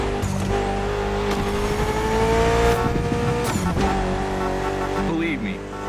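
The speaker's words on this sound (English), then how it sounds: "Mitsubishi gave us a nice inline 4-cylinder with already 280 horsepower that are gonna turn up a bit" Mitsubishi inline four-cylinder car of about 280 horsepower in The Crew Motorfest, its engine droning steadily with rising revs, a brief tire squeal and shifting pitch, with game music and a voice talking over it.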